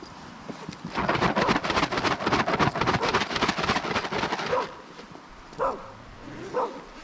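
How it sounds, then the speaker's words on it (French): A dog barks in a rapid, close, loud burst of repeated woofs lasting several seconds, followed by a couple of softer single barks after a pause. "Eh ben j'ai un chien qui vient me tenir compagnie."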